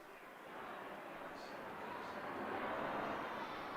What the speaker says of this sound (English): Some planes fly by now over Labatt Park, it seems.